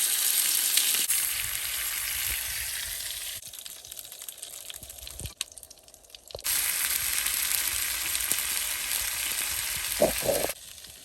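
Broccoli frying in flavored butter, a steady broadband sizzle that runs through most of the stretch, dipping quieter in the middle before returning loud and close, with a few brief clatters near the end.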